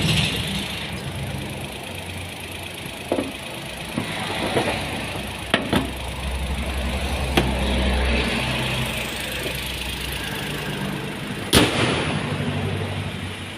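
A rarely driven car that has sat parked for a long time idles while warming up, a steady low rumble running throughout with a few sharp clicks and knocks on top.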